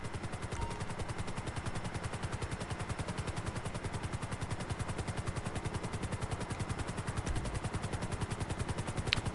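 A helicopter lands on a helipad in GTA Online, its rotor giving a rapid, steady rhythmic chopping thump that continues evenly throughout at moderate loudness.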